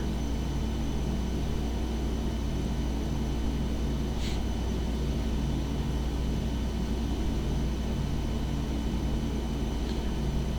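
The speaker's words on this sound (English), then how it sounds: "we can start our taxi out to the runway here" A simulated Epic E1000 turboprop taxiing toward the runway in X-Plane 11 gives a steady, dense engine drone with low rumble. It holds an even level throughout, with a faint brief hiss near the middle.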